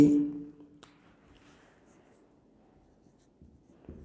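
A teacher writes on a board during a physics lesson on projectile motion, producing faint, soft scratching strokes in a quiet room after a short burst of voice at the start.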